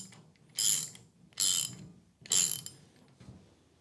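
A ratchet tightens a self-locking nut on a leaf spring bolt of a Citroen U23 truck, giving three separate close, crisp bursts of clicking with quiet gaps between them.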